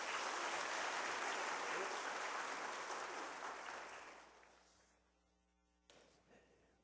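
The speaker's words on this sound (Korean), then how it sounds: "뜨거운 박수로 축하합니다" Church congregation applauds at a Sunday service, a dense clapping wash that fades out over several seconds, leaving a low hum and a brief soft knock near the end.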